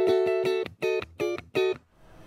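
A clean funk guitar tone through a Positive Grid Spark amp: four short, choppy chord stabs in a tight rhythm, fairly dark and close, then a brief fade into quiet.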